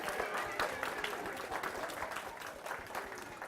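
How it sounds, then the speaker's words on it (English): An audience at a family music show claps enthusiastically, a dense, steady burst of applause heard alone at moderate distance. "Give yourselves a really big round of applause."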